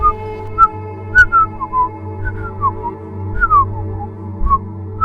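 A ghost's whistling comes as a thin melodic tune of short sliding notes and chirps over a low, steady musical drone, fairly close and clear without talking.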